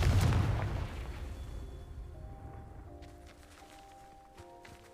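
A Confringo fire spell blast in the Hogwarts Legacy game lands as one loud booming burst at the start, then decays into a low rumble with faint ringing tones as it fades.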